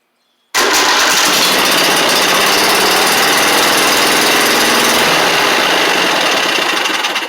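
A Briggs and Stratton V-twin engine on a mower fires up abruptly after a starter replacement, then runs loud and steady at a close, rough idle for several seconds, no voices.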